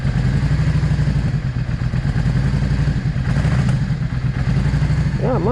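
A Yamaha V Star 650 motorcycle engine idles nearby in a steady, loud, lumpy chug with a rhythmic pulse, running continuously throughout.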